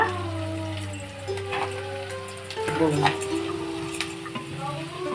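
Grated coconut fries with browned onions in a pan, a close sizzle and scraping stir under a low steady hum, with a few sharp clinks and crackles.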